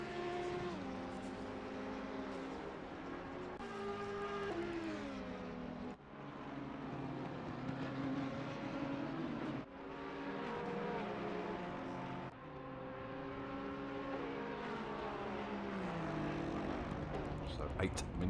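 GT3 race cars accelerate in Assetto Corsa Competizione at Paul Ricard on Xbox, their engine notes climbing in pitch and dropping at each gear change in a repeating pattern, fairly loud and steady, with a commentator talking over them.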